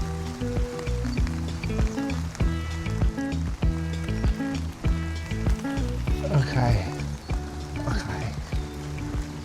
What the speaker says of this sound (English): Oh, the rain is feeling good.